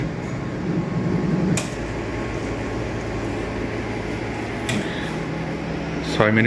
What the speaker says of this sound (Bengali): যে মেশিন স্টার্ট আপ হচ্ছে, স্টার্ট আপ হতে সময় লাগবে 6 মিনিট।